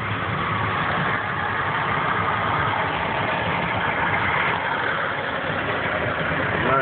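A Ford vehicle's engine runs steadily on a snowy road during an Atlanta snowstorm in 2011, a constant mid-to-low hum close by, with no speech.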